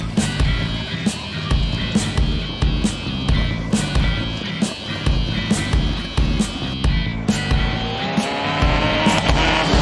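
Classic race cars, including pre-war Bugattis, race up the Chateau Impney hill climb. Loud engines rev and roar close by, with repeated gear changes and sharp bursts, and one car's pitch rises near the end.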